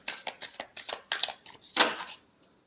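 Tarot cards are shuffled by hand for a weekly Virgo reading, giving a close series of quick, crisp riffling bursts with short gaps and one longer flutter near the end.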